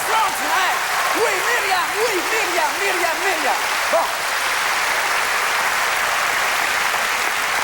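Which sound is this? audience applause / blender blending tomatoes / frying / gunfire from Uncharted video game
audience applause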